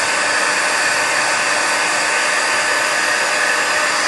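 A heat embossing tool blows steadily to melt embossing powder on a handmade wedding card, a loud continuous whooshing hum like a hair dryer held close, unbroken throughout.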